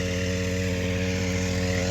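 A tractor engine runs steadily in a field, a constant mid-pitched mechanical drone with an even rhythm and no pauses, loud and close throughout.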